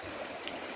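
River water flows steadily with a soft, continuous rushing and faint trickling, fairly quiet and even throughout with no voices.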